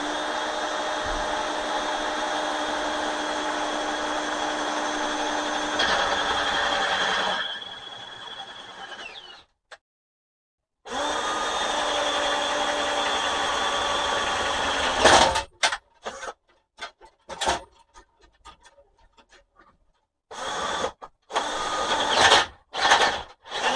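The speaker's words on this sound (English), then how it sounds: "So I'll just try and put like a 9mm hole through," A power drill boring a 9mm hole for 8mm bolts during windmill work runs loud and steady for about ten seconds, stops, then runs again, breaking into short stop-start bursts toward the end.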